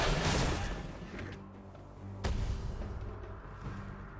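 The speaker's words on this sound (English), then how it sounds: "Red Team's turret has been destroyed." A turret collapsing in League of Legends, heard as a loud, booming, crumbling blast at the start, a second sharp crack about two seconds later, and a low rumble with game sounds continuing underneath.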